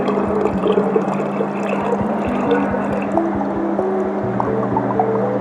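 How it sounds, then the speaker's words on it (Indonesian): Dirty water drains out of an Arctic ST16E ice cream machine, a steady close trickle with wet squishing and dripping, alone. "Oke, sekarang bisa kita buang sisa dari air kotornya. Nah, ini adalah pembuangan yang pertama. Oke, ini kita buang airnya."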